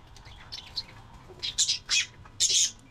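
Pigeons at feeding time as they start eating, giving several short, bright chirping bursts that grow louder toward the end over low, steady background noise.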